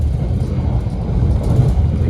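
Steady low rumble of the KA Kertanegara economy train running at speed alongside a road, a continuous loud roar heard from inside the carriage with no voices.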